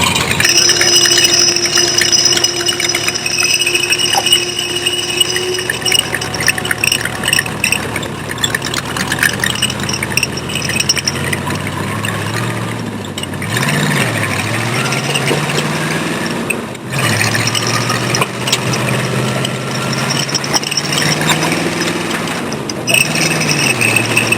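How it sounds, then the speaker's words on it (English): A rat rod roadster's engine runs steadily and loudly on a test drive. It rumbles at close range with several rising revs and rattles of the body, and there is no talk over it. "We're giving it a test drive."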